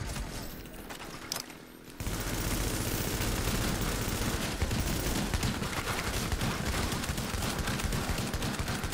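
Sustained rapid gunfire in The Division during a solo Dark Zone PvP fight, a brief quieter stretch giving way to a dense, continuous barrage of automatic shots.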